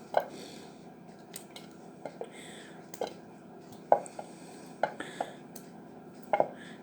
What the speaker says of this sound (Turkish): Hıyarımızı da böyle küçük küçük doğrayalım.